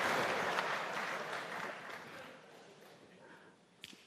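Applause from a large audience at a political party's New Year gathering, loud at first and thinning out, with scattered claps and a brief sharp sound near the end.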